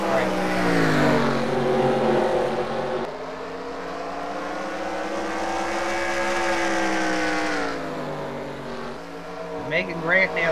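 Several race cars running through lapped traffic during a Bristol heat race, loud overlapping engine drones that rise and fall in pitch as cars pass, with a commentator's voice talking over parts of it.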